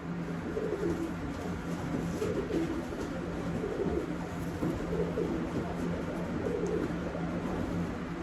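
Racing pigeon cooing steadily while being handled, soft repeated low coos layered over a continuous loft background of other birds, close and moderately loud throughout.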